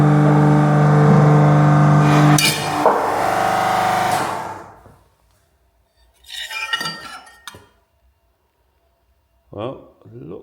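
A press brake air-bends a sheet metal part, a loud sustained mechanical drone that cuts off, followed by short clanks and a couple of metallic rattles nearby, with people talking.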